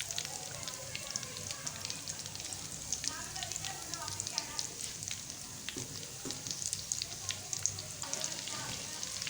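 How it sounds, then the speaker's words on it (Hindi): Egg potato balls fry in hot oil with a steady, dense sizzle and crackle throughout, close and even, with faint talking in the background. "अब ये इंशाल्लाह 1 आध मिनट में फ्राई हो जाएंगे"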